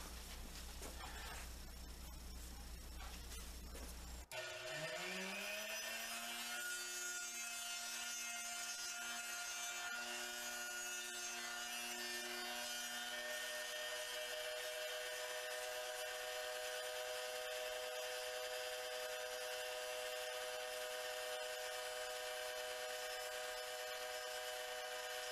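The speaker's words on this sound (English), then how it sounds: "This is going to put my point taper onto it." A wooden arrow shaft being tapered to a point with a taper tool, a rough rubbing start that shifts into a steady, whirring scrape, close and moderately loud, continuing throughout.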